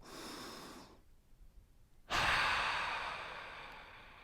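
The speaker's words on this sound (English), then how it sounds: "Take one last deep awareness breath" A deep breath during a breathwork exercise, close and clear: a drawn-out inhale, a short held pause, then a long, strong exhale that gradually fades, with no talking.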